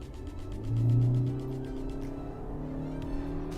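Hyundai Verna sedan with a CVT gearbox accelerating in sport mode: a smooth, steady engine drone that swells early, then settles into an even hum heard from inside the car.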